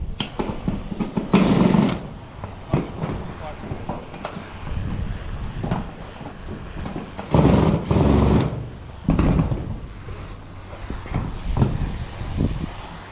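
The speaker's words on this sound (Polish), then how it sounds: "te wkręciki nie do końca fajnie chcą się wykręcać" A power screwdriver whirs in several short bursts separated by pauses while unscrewing small, stubborn screws during garage disassembly, with small clunks and handling noises in between.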